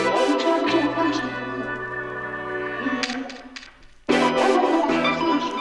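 Soul music sample with synth stabs: sustained warm chords and short bright stabs, fading into a brief near-silent gap before the stabs and chords return loudly.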